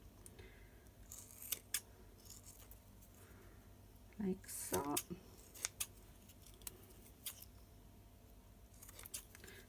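Scissors snip a sticky rubber stamp sheet close up in short crisp bursts, with a quiet voice speaking briefly between cuts.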